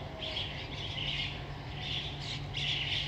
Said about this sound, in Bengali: আর পাখির শব্দ শুনতে পাচ্ছি